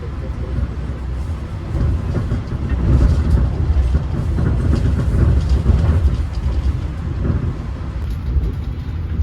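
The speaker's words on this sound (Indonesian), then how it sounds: "ini kereta api Jayabaya telah tiba dan berhenti di" A Jayabaya passenger train rolls along the rails in a loud, continuous rumble with rhythmic wheel clatter and a brief swell in the middle. There are no voices.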